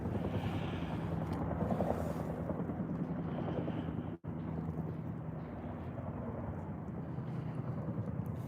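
Heavy rotor noise from a low-flying military helicopter roars overhead, loud and unbroken, with one short sharp dropout midway.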